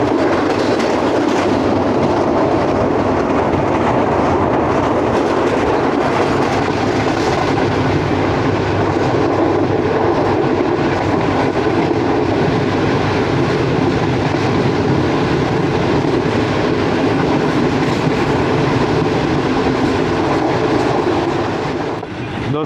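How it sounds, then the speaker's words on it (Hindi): A passenger train rolls into Gujranwala, a loud, steady rumble of wheels on rails with rhythmic clickety-clack, heard from on board for a sustained stretch before easing slightly at the end. "और गुजरांवाला पहुंच रही है ट्रेन"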